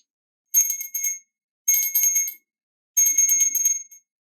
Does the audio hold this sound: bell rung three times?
yes